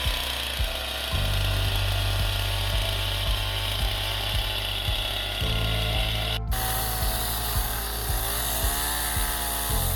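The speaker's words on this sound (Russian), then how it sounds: "Пилим замки для соединения всех бревен в одно целое." A chainsaw cuts notch joints into logs for a log cabin on a riverbank. It runs loud and steady without a break, with a brief dropout partway through.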